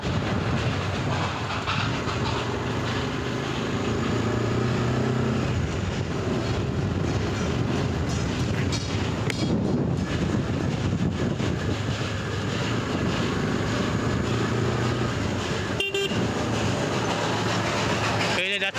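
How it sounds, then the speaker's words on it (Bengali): The Darjeeling toy train runs near Ghum station, with a steady rumble, clattering wheels and a sharp horn-like burst near the end. Voices are heard over it. "Toy train."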